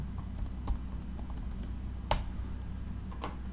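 Scattered keystrokes on a computer keyboard tap out a short search, sparse and fairly quiet over a steady low room hum, with one sharper click standing out.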